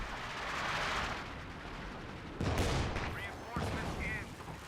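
Mortar fire in Company of Heroes 2, deep thuds and booming impacts rising over a constant roar of battle, with a voice talking throughout.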